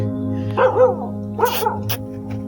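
A dog barks at Tughlakabad Fort, two short bursts of yips and barks at moderate distance over a steady hum.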